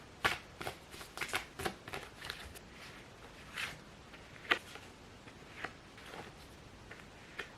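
Playing cards being shuffled by hand, a run of quick riffling bursts followed by softer, scattered shuffles and flicks, close and fairly quiet with no talking.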